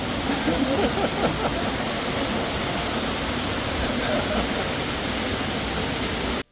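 Waterfall seen from behind on a Tokyo Disneyland ride, a dense, loud, unbroken roar of falling water that holds steady for several seconds before cutting off abruptly.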